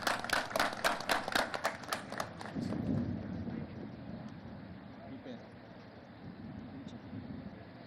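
A crowd gives a burst of rhythmic clapping for the flag team at a police sub-inspector passing-out parade, loud for the first couple of seconds, then fading into an open-air murmur.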